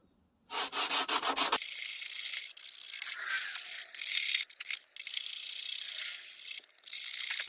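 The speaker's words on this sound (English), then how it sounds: "and start to sand." Hand sanding of a rusty metal door jamb with 80-grit sandpaper rolled up with Scotch-Brite, a steady close rasping scrape with rhythmic strokes and brief pauses, alone without talk.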